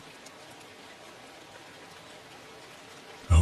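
Rain falls outside a quiet hotel on a rainy-season night, a soft, even hiss that runs steadily, ending in a brief louder bump.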